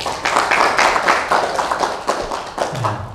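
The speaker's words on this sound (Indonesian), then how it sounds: "Boleh nggak tepuk tangan?" Audience applause at a dharma talk, a steady patter of many hands clapping close by for about three seconds, with a brief voice near the end.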